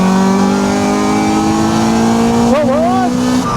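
A 200 bhp Honda Civic Type R EP3 pulls hard in third gear, its engine note climbing steadily and loud from inside the cabin before a brief dip and rise near the end, with a voice shouting over it.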